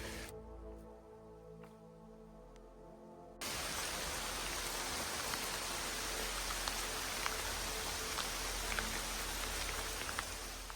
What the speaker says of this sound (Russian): Ливень в самом разгаре